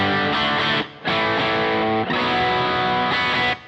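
An electric guitar plays heavily distorted chords through a Bogner Goldfinger 45 amplifier on its Omega channel. The chords ring loud and thick in three sustained strums separated by brief gaps, with no talk.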